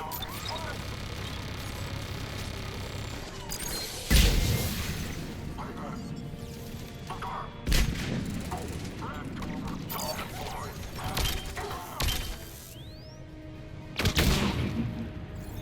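A turret fires during a hardcore-difficulty Mass Effect 3 firefight, its sharp mechanical shots and impacts cracking out at irregular intervals over a dense background of combat noise, with voices talking at times.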